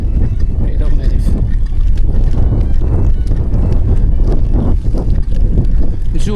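Cold wind blowing on a high mountain route at around 3000 m: loud, continuous rushing and buffeting across the microphone that never lets up.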